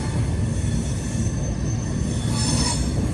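A passenger train on the Visakhapatnam to Kurnool summer special route rolls along the rails with a loud, continuous rumble and high wheel squeal, heard from on board without pause.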